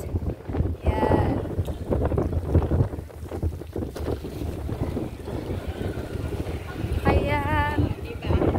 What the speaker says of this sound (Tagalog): Sobrang hangin guys. Grabe ang lakas ng hangin.